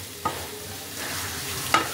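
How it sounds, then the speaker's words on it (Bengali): Grated coconut being stirred into radish in a frying pan, a steady soft sizzle with two brief scraping clinks of the utensil against the pan, close up. "নারকেল কোড়াটাকে মূলোর সাথে খুব ভালো করে মিশিয়ে নিতে হবে।"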